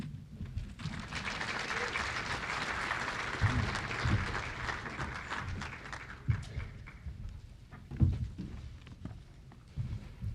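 Sustained audience applause fills a large hall at an affordable housing summit in Volusia County, steady clapping from the start with a few louder claps standing out near the end as a guest speaker comes forward.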